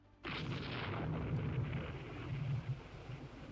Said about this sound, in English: More torpedo hits